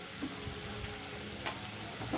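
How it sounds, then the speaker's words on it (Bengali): Mashed flat beans sizzle in hot mustard oil in a pan while a spatula stirs and scrapes, a close, steady frying crackle with soft clinks and no talking. "তারপরে এইভাবে কিন্তু তেলের মধ্যে আমি ভালো করে ভাজা ভাজা করছি"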